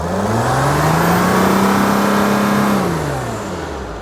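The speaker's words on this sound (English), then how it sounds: "You can rev it again." A Mercedes Sprinter van engine with a boost leak at a gasket, revved once to a steady high drone that holds for a few seconds and then falls away, loud and close with no talk.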